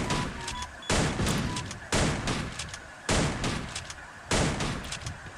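Free Fire gunfire lands in five loud, evenly spaced bursts about a second apart, each a heavy booming blast that decays before the next, with no talking.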